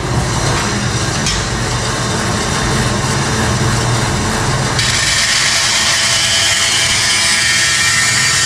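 A big bandsaw rips through a piece of wood, giving a loud, steady cutting roar that keeps going from start to finish. The tone shifts partway through the cut, and no one speaks.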